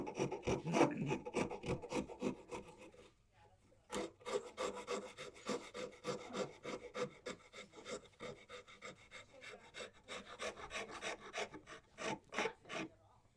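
A hand rasp scrapes along a wooden spoon in quick repeated rasping strokes, close and fairly quiet, with a brief pause before the rhythmic filing resumes.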